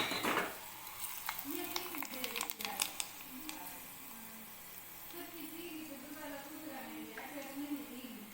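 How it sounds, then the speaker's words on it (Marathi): Hot tadka hits the dhokla with a quiet sizzle after a spoon clinks against the pan, then a faint steady crackle continues while someone talks over it. "हा गरम गरम तडका आपण ढोकळ्यावर घालून घेऊयात"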